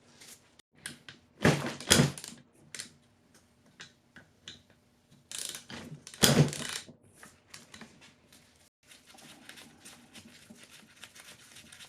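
A ratchet loosens 12 mm bolts on the camshaft thrust cover of a 2008 Acura MDX cylinder head, giving quick bursts of clicking pawl sounds, two sharper metallic cracks as bolts break free, and scattered light taps.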